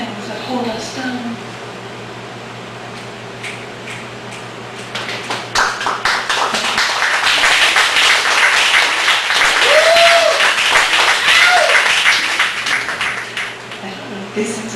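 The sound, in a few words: applause at a poetry open mic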